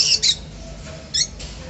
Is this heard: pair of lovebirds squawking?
yes